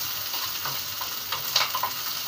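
Chicken sizzles quietly in a pan as it is sautéed for a white gravy, with soft scrapes and stirring taps against the pan over a steady faint hiss. There is no talking.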